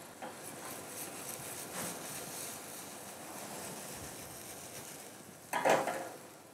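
Onions sweat in butter in a pan, giving a soft, steady sizzle with faint stirring scrapes and a brief louder clatter near the end.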